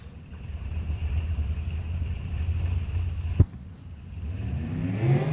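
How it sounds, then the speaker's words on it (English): Drag race cars rev at a track, a steady distant engine rumble building toward the end, with a sharp bang in the middle. "I hear race cars making race car noises."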